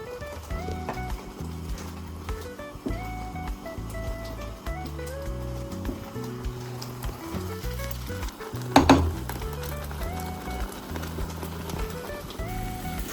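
Chopped onions fry in a pan for egg curry with a low, steady sizzle that sits beneath louder background music, broken by one brief clatter near the end.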